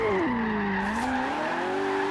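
A McLaren 570S mid-engine supercar drifts in the racing game Forza Horizon 3, making a continuous, loud tire squeal whose pitch dips and rises while engine noise runs underneath.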